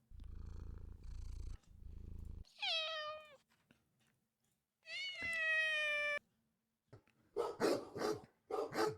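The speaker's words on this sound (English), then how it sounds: "Cat purring." A low, rumbling cat purr opens the sequence, followed by drawn-out meows, then a sharp barking dog, each sound separated by brief silences.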